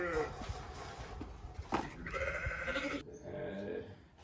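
Lambs and big ewes on a sheep farm bleat in a run of close, wavering calls, some overlapping, with a quieter bleat near the end amid light background noise.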